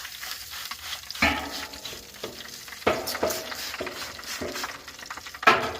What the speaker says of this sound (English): I'm gonna spritz this with a little apple cider vinegar